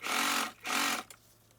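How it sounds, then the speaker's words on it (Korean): Sewing machine stitching the outer fabric of a padded coat along the front edges, running in two loud, steady bursts of about half a second each with a brief pause between, then stopping abruptly, close and without speech. "앞쪽에 가장자리를 따라서 양쪽 다 모두 봉제를 합니다"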